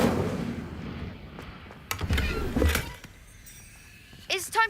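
In Hogwarts Legacy, an Incendio fire spell goes off as a burst of crackling, whooshing blasts mixed with sharp impacts. Other combat effects and a brief voice-like sound come through near the end.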